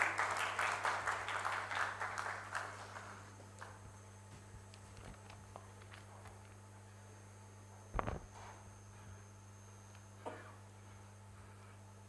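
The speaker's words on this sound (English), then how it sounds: "A huge round of applause for him" Audience applause for the SILF president at the NIDAR 2025 silver jubilee celebration, a loud burst of clapping that fades within a few seconds into a quiet hall with steady hum and a few faint knocks.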